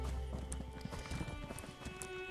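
Horse hooves clip-clop steadily in the video game Elder Scrolls Online, with a brief neigh rising near the start, over a continuous background game soundscape of moderate loudness.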